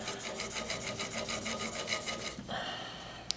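Arrow shaft end squared against sandpaper on a small angle-plate tool with ball bearings, giving a steady rhythmic rubbing rasp that repeats in even strokes, close up, then shifts to a lighter scraping near the end.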